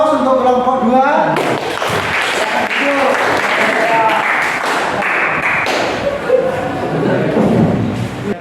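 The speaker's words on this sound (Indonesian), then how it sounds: "Kita berikan aplaus untuk kelompok 2." Loud, sustained clapping from a classroom audience for a presenting student group in a mechanical engineering class, rising sharply after a voice and carrying on under scattered talk.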